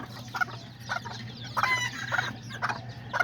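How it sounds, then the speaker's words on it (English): A mother hen clucking with her young chicks close by, a steady run of short clucks and soft calls rising and falling over a faint background hum, with no voices. "There's the mom chicken and the little baby ones."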